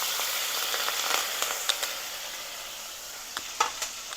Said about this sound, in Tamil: வெங்காயம் கொஞ்சம் போட்டு தாளிக்கணும்